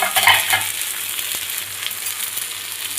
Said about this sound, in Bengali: এটা ময়া মাছ, বেগুন আলু পেঁয়াজ কলি দিয়ে ভাজা